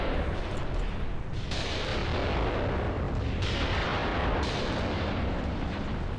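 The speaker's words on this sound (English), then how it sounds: "we've got artillery coming in over here" Artillery fire in the war game Graviteam Tactics: a dense, continuous rumble of distant bombardment, with several heavier blasts rising out of the steady roar.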